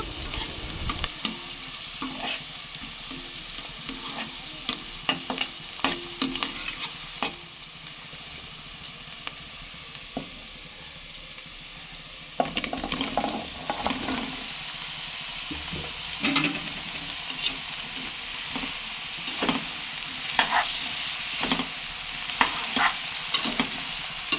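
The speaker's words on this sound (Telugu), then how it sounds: "ఇప్పుడు ఇందులో ఆనపకాయ ముక్కలను వేసుకుని మగ్గించుకుందాము" Bottle gourd pieces and onions sizzle and fry in a pan, with repeated close stirring clatters and scrapes over a steady frying hiss.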